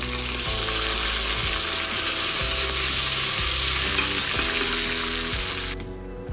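Onion, garlic-ginger paste and spices fry with a bay leaf for veg pulao, a loud continuous sizzle close by with rhythmic stirring scrapes, cutting off abruptly just before the end.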